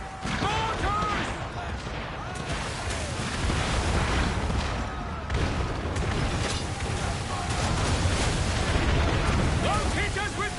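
Mortar explosions boom through a dense, continuous naval battle in Assassin's Creed III, their blasts blending into a loud, steady roar of gunfire and chaos that lasts throughout.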